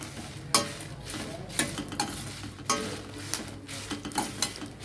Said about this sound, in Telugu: గలగలగల వేగిపోతున్నాయి కదా బాగా